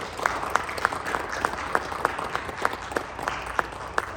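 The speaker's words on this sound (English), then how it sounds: "Can we all give her a round of applause?" A school audience gives Susie a round of applause at a junior high assembly, with steady clapping and regular sharp claps standing out in an even rhythm above the wash.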